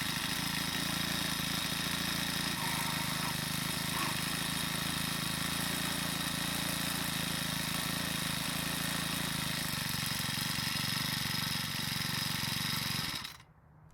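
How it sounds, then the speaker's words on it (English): A Troy-Bilt 4-cycle edger engine runs loud and steady for about thirteen seconds, a continuous small-engine drone that cuts off abruptly near the end. "Right now, I want to restart the engine and see how difficult it is."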